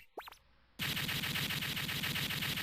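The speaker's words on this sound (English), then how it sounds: "Just keep charging up your Mega Buster, keep shooting this asshole" Mega Buster shots in Mega Man 8, a rising charge-up chirp, then a dense rapid stream of evenly spaced blasts that continues loudly without pause.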